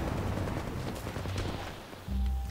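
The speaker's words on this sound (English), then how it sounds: "Shooting at me from everywhere." Dense gunfire in a multiplayer shooter video game, with rapid overlapping shots coming from several directions, followed by a deeper blast near the end.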